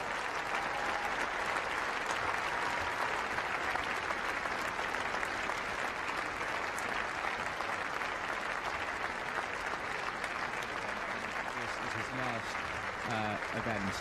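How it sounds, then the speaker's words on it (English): Steady, dense applause from a large audience at a showjumping event fills the whole stretch. It stays loud and continuous, while a voice on a public address system speaks over it near the end. "Ladies and gentlemen, he deserves your applause."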